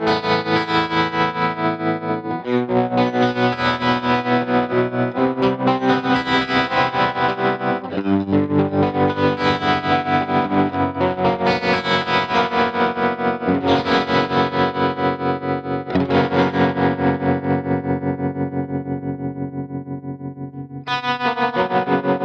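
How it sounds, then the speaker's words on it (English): An electric guitar is played through a TC Electronic Pipeline Tap Tremolo pedal on a slightly overdriven tone with a little reverb. Sustained chords pulse in fast, steady volume throbs, loud and continuous throughout. "Slightly broken up, a little bit of reverb, and here goes the Pipeline Tremolo."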